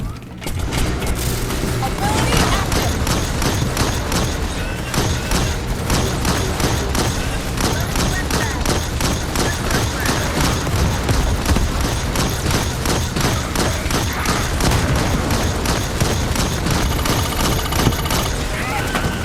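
Sustained machine gun fire in the sci-fi shooter Starship Troopers: Extermination, loud and continuous, with rapid repeated bursts and heavy booming impacts layered throughout.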